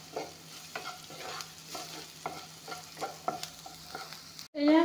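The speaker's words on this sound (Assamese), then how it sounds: "এইখিনি অলপমান ভাজি ল'ম।" Onion, garlic and panch phoron with a little spice powder fry in a pan, giving a soft, steady sizzle with repeated rhythmic stirring scrapes, ending in a sudden louder burst.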